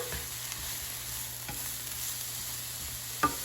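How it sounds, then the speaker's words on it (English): Steady, soft sizzling of portobello mushrooms frying in oil in a pan over medium-high heat, with a few brief scrapes from stirring and a low hum underneath. "So now the oil is sizzling, so the pan is heated through."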